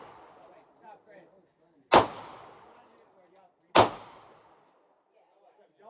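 Two sharp Glock 23 pistol shots at an outdoor shooting range, spaced about two seconds apart, each a loud crack with a brief decaying tail, and quiet talk murmuring between them.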